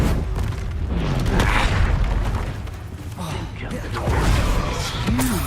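In Hogwarts Legacy combat, the Incendio fire spell goes off as a burst of booming, crackling whooshes and impacts, dense and continuous, mixed with voices and battle noise.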